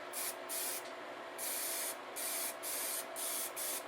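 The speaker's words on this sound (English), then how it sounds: "Just so you can see that I've sprayed that." A NeverWet spray can hisses in short bursts, about five or six separate sprays of varying length, as it applies thin coats to an RC boat hull, close and clear with quiet gaps between.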